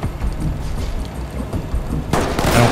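Gunfire in the tactical shooter game Ready or Not: a muffled, distant rumble of shots through cover, then a much louder, closer burst that holds on to the end.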